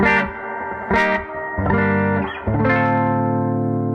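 An electric guitar with humbuckers plays through a 1968 Fender Princeton Reverb amp with reverb on, giving a few struck chords and notes that break up slightly and ring out with a lingering wash.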